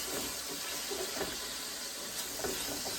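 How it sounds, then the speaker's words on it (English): Wine poured into a hot pan of cooking chicken hisses and bubbles in a steady, busy wash of sound with a few louder spatters, close up and without talk. "I'm just going to add some of the wine. Maybe a little more. Let that go and kind of take up some of these bits."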